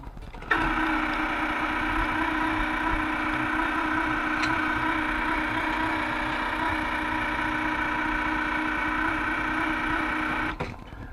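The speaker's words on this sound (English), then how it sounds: "That is the sound of a failing rotor." A failing rotor in a Revere R-913 Telechron electric clock gives off a steady, loud mechanical buzz with a rough hum that starts abruptly when plugged in, holds unchanged for about ten seconds, then cuts off.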